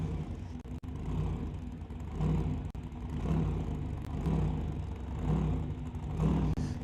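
A 1931 Ford Model A drag car accelerates at a street-class drag racing event, its engine rumbling and surging in repeated waves, with brief clattering breaks between pulls, heard at a moderate distance.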